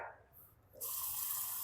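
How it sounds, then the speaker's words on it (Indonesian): Water from a tap runs into a sink, starting with a faint trickle and then gushing steadily and loudly for the last second, captured close up with no talking. "Saya contohkan ambil dari keran ini ya"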